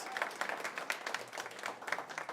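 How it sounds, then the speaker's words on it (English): An audience at an evening Chanukah lecture by a rabbi bursts into applause, a dense wash of many hands clapping at moderate level, steady throughout with no speech over it. "Give yourselves a round of applause."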